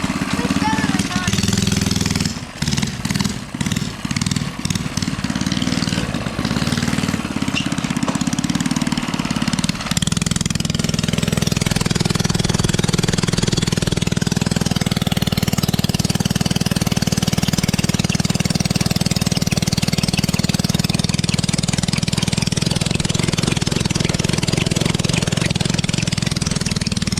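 A mini bike engine revs hard and continuously during a burnout attempt, a loud, rough, buzzing roar that starts choppy with sputters and then holds steady to the end.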